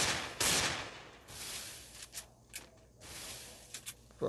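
Bursts of video game gunfire crackle in short volleys, separated by quieter gaps with a few sharp single shots near the end.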